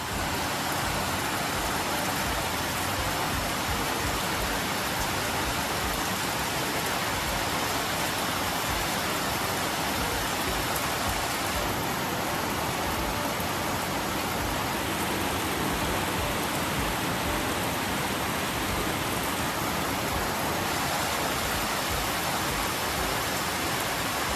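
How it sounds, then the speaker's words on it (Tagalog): Steady, dense roar of heavy rain pouring down without letup, a constant loud hiss filling the whole stretch with no voices. "Grabe yung ulan."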